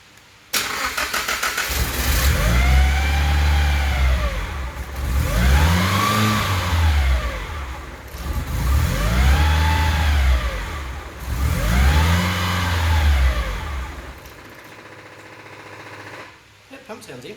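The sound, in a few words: SR20DET-swapped Datsun 510 engine running and revving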